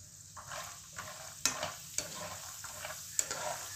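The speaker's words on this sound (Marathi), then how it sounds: "इथे हे जे कच्चे शेंगदाणे आहे ते देखील आपण तळून घेणार आहोत व्यवस्थित असे" Raw peanuts fry in oil for poha chivda over medium heat, a soft continuous sizzle broken by regular scraping stirs of a spatula against the pan, close and moderately quiet.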